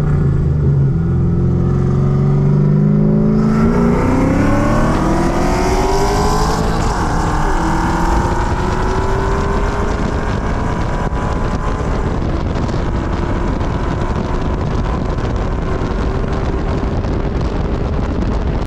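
A supercharged, cammed 3-valve Ford Mustang running E85 accelerates hard, its engine note climbing through gears in a loud, continuous roar with heavy wind buffeting, then settling into a steady cruising drone.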